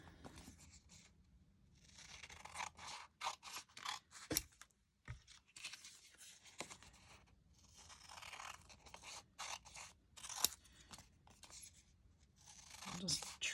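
Scissors trim washi tape in several short snips and scrapes at a crafting table, close and fairly clear, with a person talking in between cuts.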